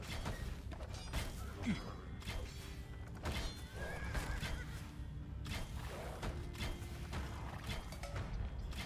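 Light cavalry horses in the Sundjata strategy game neigh and whinny over a busy bed of clip-clop hooves and mechanical creaks, several distinct whinnies at moderate distance amid continuous battle clatter.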